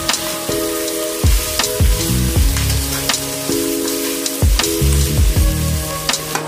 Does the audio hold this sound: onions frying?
yes